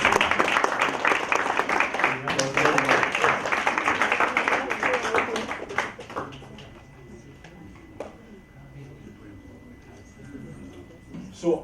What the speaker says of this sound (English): Let's put another round of applause.